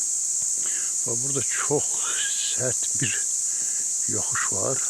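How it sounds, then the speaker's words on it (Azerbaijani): Cicadas drone in a steady, shrill chorus in the forest along a road near Chichi village in Quba district, continuous throughout while someone talks over it. "Ancaq cırcıramaların səsi gəlir."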